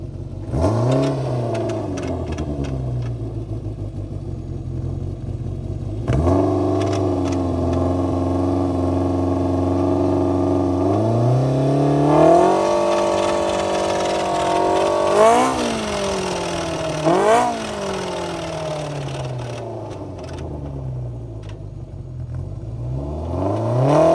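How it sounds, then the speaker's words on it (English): A car engine with tires made of ice revs up and down repeatedly while the wheels spin on ice, producing rising and falling whining tones, loud and close with no talk. "It's spinning in the ice."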